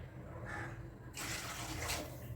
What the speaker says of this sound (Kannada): ಸೊ ಈ ಗ್ಲಾಸಿಂದ 3 ಗ್ಲಾಸು ನೀರು ಹಾಕ್ತಾಯಿದ್ದೀನಿ